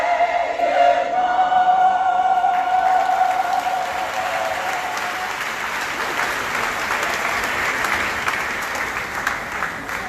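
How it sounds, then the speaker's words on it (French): Applause from a church congregation at a Sunday worship service, rising as a sung melody fades, then a broad, steady wash of clapping that slowly tapers. "On nous applaudit encore."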